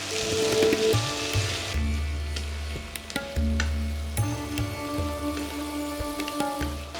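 Potatoes cook in a pan with a steady, close sizzle and crackle, like rain on a surface, running throughout beneath a low background hum.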